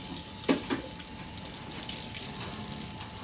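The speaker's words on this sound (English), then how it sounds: "Now I might turn my water on and scrub my arm." Tap water runs steadily at a sink during a surgical hand scrub, a soft continuous hiss with a couple of brief splashy thumps near the start.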